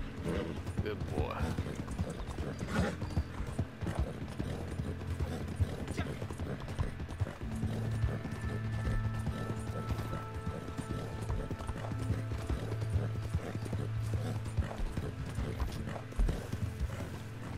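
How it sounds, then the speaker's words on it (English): Hooves clip-clop in a steady rhythm on hard ground, with someone talking over them and soft music underneath, as a horse trots along in the video game Red Dead Redemption 2. "I haven't been calming my horse down"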